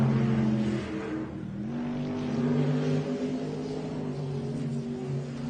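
A V8 superboat engine revs hard during a race run, a droning multi-toned roar that dips briefly and then climbs and holds, heard from some distance without hitting the limiter.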